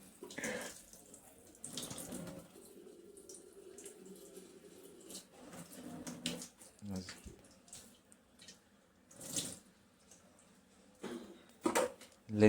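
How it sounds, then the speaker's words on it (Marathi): Tap water runs faintly and steadily into a container in a home, with splashes and knocks here and there, while people talk intermittently nearby. "आलं बघ पाणी."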